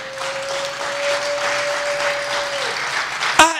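A church congregation claps in sustained applause to acclaim God, a dense wash of hands that holds steady, then ends abruptly with a sharp thump.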